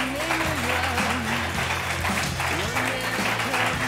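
Steady, dense audience applause fills an Italian TV studio for several seconds, with voices and a presenter talking over the clapping.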